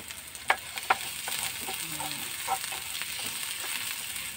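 Onion and ginger fry in a pan with a soft, continuous sizzle, a few brief clinks of stirring near the start, heard close but fairly quiet.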